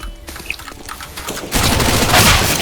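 Gunfire in a video game: a few scattered shots, then a dense, loud burst of rapid firing and booming that fills the last second, close and without talk.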